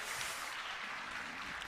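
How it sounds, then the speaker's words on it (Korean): A church congregation applauds during a Sunday worship service, steady dense clapping filling the whole stretch at a moderate, slightly distant level. "큰 박수로 우리 한번 큰 박수로 축복합시다"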